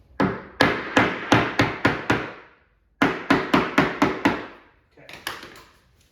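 Sharp staple-gun shots driving staples into an arcade cabinet panel on a wooden cleat, two close rapid runs of six to seven loud snaps each, then a fainter pair.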